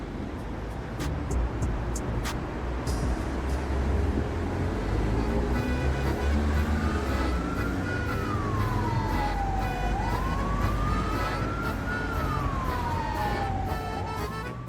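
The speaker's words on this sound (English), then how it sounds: "a police car's right behind them, sirens blaring" A police siren wails and sweeps up and down in pitch over steady traffic noise, loud and sustained.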